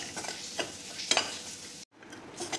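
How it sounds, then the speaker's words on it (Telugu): Ridge gourd peel fries with cumin in a pan, a soft close sizzle broken by utensil scrapes and stirring clatter, with a sudden brief gap of silence before the frying resumes. "వేగిపోయిందండి బీరకాయ పొట్టు."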